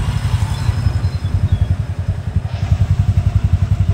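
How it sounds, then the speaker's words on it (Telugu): A Bajaj motorcycle engine idles close and loud in a steady, fast, pulsing putter, with light mechanical clatter on top and no talking. "జస్ట్ క్లచ్ పట్టుకున్నామంటే చాలు, స్టార్ట్ అవుతుంది."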